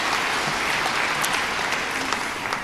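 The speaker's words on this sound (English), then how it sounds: "Yes, you can applaud that" An audience applauds at a talk on archaeology, loud, dense clapping from many hands that runs without a break across the whole stretch.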